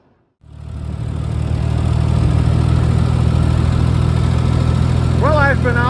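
Ford 2000 tractor engine starting up and running steadily before a test drive, a close low rumbling drone that begins abruptly after a brief silence; a voice speaks briefly near the end.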